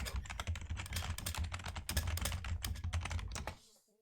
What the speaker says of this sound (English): No, what are you typing?